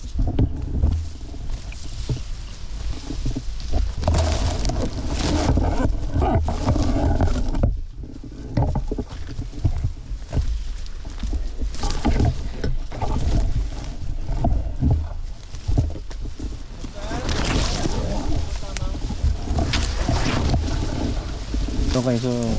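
Strong wind rushes over an exposed mountain ridge on a day hike, a continuous loud roar with gusting surges throughout, buffeting the microphone, while a person talks intermittently.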